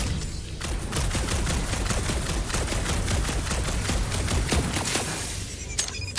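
Weapon fire in the Guardians of the Galaxy video game, a dense, continuous stream of rapid crackling shots lasting several seconds, loud and sustained before tapering off near the end.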